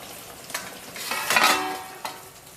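Fish frying in a pan in coastal Andhra style, a faint sizzle with a few scraping and stirring bursts, one stronger flurry in the middle and a short stroke near the end.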